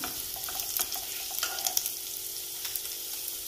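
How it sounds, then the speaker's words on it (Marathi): Ginger sizzles and fries over high heat in a pan while making veg manchow soup, a steady close crackle with small spatters and light stirring, no voices. "गॅस मोठाच आहे, ते पण थोडंसं आलं परतून घेऊया।"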